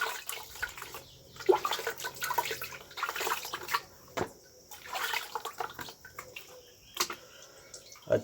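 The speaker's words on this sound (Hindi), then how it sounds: "अब इसको पानी से धो लेना है" Hands are washed with water poured from a bucket, giving splashing, trickling and dripping that comes and goes in uneven bursts, close to the microphone, with faint quiet gaps between pours.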